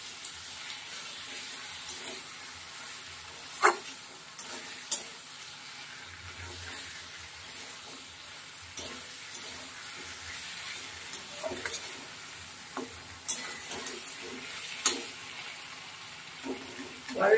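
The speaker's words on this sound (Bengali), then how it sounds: "আর একটু কষাবো, পুরো কষানো হয়নি, আর একটু কষিয়ে নিই।" Fish curry masala being sautéed and stirred in a pan, a soft steady sizzle with intermittent scraping stirs and clinks, fairly faint, with a brief bit of running water.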